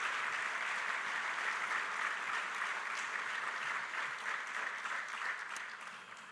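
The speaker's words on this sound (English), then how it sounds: "How about a nice round of applause for Deputy Chief Horikawa?" Steady crowd applause fills a police swearing-in ceremony honoring a deputy chief, loud and continuous before tapering slightly at the end.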